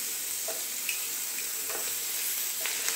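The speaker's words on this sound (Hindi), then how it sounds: "जैसे ही हमारा जीरा तड़केगा मैं इसमें डाल दूंगी अदरक लहसुन का पेस्ट।" Cumin and ginger-garlic paste sizzle in melted butter, a steady close frying hiss broken by a few soft pops and light stirring clicks, with no voices.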